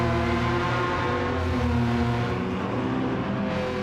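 Several race car engines in a Gran Turismo 7 racing game drone together as a field, a dense steady layered whine of similar-sounding motors held at a constant loud level.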